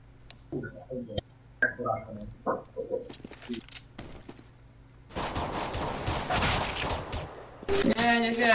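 Gunfire from Counter-Strike: Global Offensive starts as a few isolated sharp shots with clicks and clinks, then a dense burst of rapid automatic fire. Game sound effects follow, mixed with what may be voices.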